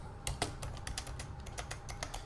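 Quick keystrokes on a computer keyboard, a brisk run of roughly a dozen close, crisp clicks over a couple of seconds with no speech.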